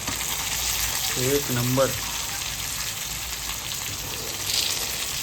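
Pieces of rawas fish fry in a pan with a steady, moderate sizzle, close by, as a voice speaks briefly partway through.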